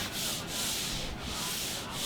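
A steady, soft scratchy rubbing of a mouse gliding back and forth across a speed-type cloth pad, close up, with slight rhythmic swells.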